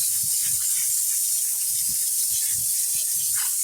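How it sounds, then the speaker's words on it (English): A spray bottle misting rocks while cleaning crystals after rockhounding: a steady, broad hiss of spray runs unbroken and close for the whole stretch, with faint low knocks underneath. "Give this one a spray over here."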